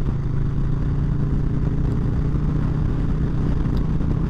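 Harley-Davidson Street Bob with the 114 engine idling close by, a loud, steady low-pitched lumpy rumble with an even mechanical pulse throughout.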